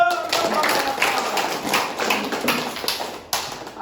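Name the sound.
classroom applause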